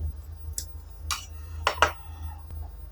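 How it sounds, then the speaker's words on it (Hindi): A spoon gently turns cooked rice into vegetable fried rice in a pot, giving a few soft, separate metallic scrapes and clinks at irregular intervals, quiet and close with no talking. "अब इसको थोड़ा सा आराम से मिक्स करेंगे ताकि चावल टूटे नहीं"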